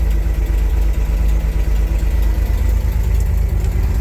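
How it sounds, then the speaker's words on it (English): Steady low engine drone of a 1967 Ford Econoline restomod, heard from inside the cabin with the engine mounted in the passenger compartment; a continuous, fairly loud idle rumble with no talking. "it's actually pretty reasonably quiet in here for having an engine inside the compartment"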